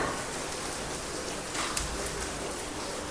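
Heavy rain pours down in a steady, even hiss with a couple of faint louder drips, at moderate distance and with no talking.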